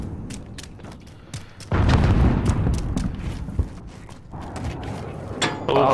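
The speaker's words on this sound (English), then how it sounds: "Enemy cruise missile!" A cruise missile strike detonates in the Call of Duty Cold War multiplayer match: a sudden loud, heavy boom that rolls into a sustained rumble amid close, clattering gunfire and game noise.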